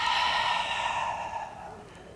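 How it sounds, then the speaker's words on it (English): A single slow exhale during a beginner yoga session, a soft breathy sigh that is clearest at the start and fades out over about two seconds, close and quiet, with no talk. "And exhale out."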